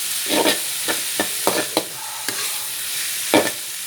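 Minced pork stir-fries in a hot pan, with a steady sizzle broken by sharp spatula scrapes and clacks as the meat is turned, close and loud with no talking.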